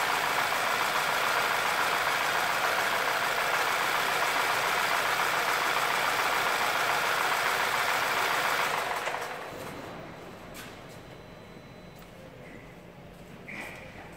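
A 2011 Skoda Superb engine idles roughly with misfires on all cylinders, a steady loud running sound for most of the clip before dropping to a quieter, thinner idle near the end.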